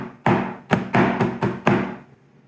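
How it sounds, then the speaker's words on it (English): Six crisp, resonant snare drum hits in a quick uneven pattern, a left-hand flam and right-hand flamadiddle ringing close and loud, then a short decay into quiet. "Getting ready for a left hand flam. And then a right hand Flamadiddle."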